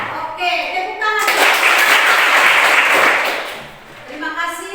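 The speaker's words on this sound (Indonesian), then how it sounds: "Oke, tepuk tangan." A classroom of students breaks into loud, dense applause lasting about three seconds, framed by voices of children and a teacher speaking before and after the clapping fades.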